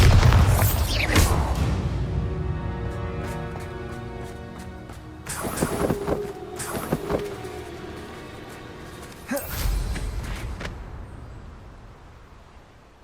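A Bombarda spell blows up in the wizarding game Hogwarts Legacy, a heavy booming blast followed by two further deep bursts with long ringing, rumbling decays fading away.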